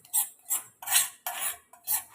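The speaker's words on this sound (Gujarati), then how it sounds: "તો આને હું આની અંદર મિક્સ કરી દઉં છું" Spoon clinking and scraping against a bowl while roasted semolina is mixed into wheat flour for crispy layered puri dough. Five short, bright metallic strokes come at a steady rhythm, close and clear, with no speech.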